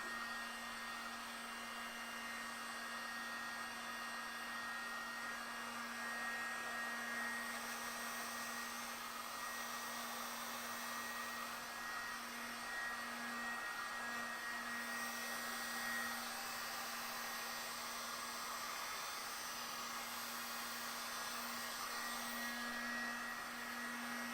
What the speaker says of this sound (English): I'm going to get my dryer. I'm just going to give it a quick dry.